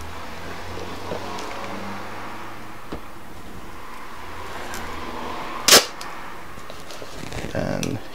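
Pull tab on GoPro camera packaging yanked free in one sharp, loud snap near the end, close to the mic, with faint handling rustle before it and a short scrape after.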